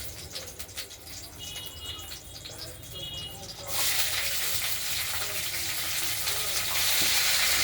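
Flat shim beans dropped into a wok tempered with kalo jeere and green chilli, a loud broadband sizzle bursting in partway through and continuing steadily up close, with faint bird cooing in the background before it.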